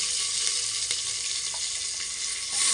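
Garlic and curry leaves sizzling in hot oil for a tadka for masoor dal, a steady loud hiss that holds throughout at close range.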